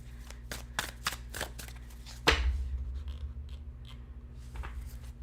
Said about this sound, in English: One more shuffle, and then I will pull a card for you.